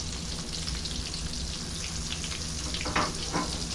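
A second batch of fish fillet fries in a pan with a constant crackling sizzle, dense and close, with a couple of louder spattering pops near the end.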